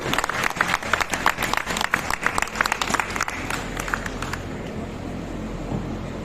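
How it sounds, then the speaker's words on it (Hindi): Audience applause at a Union Budget seminar welcoming state party president Bhupendra Chaudhary: brisk, loud clapping from a crowd for about four seconds, then it trails off into room noise. "जोरदार ताली बजा के स्वागत करेंगे"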